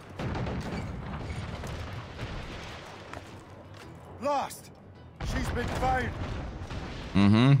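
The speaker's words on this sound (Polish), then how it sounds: "Czemu słyszę wybuchy?" Booming explosions and gunfire-like blasts in the video game Assassin's Creed Rogue rumble steadily at a distance, with sharper bursts near the end while someone talks over them.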